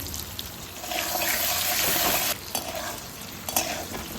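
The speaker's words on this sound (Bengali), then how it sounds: "কেটে রাখা আলুগুলোকে ছেড়ে দেবো।" Cut potatoes frying in a pan with bay leaf, whole garam masala, asafoetida and five-spice, giving a close, continuous sizzle with scraping stir strokes and a few utensil knocks, without speech.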